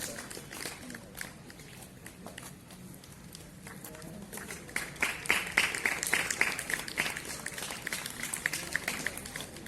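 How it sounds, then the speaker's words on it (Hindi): Audience at a government school event in Manimajra, Chandigarh, for National Voters' Day applauding, starting as scattered clapping and swelling into fuller, denser applause in the second half. "जोरदार तालियां आपकी बजती रहनी चाहिए"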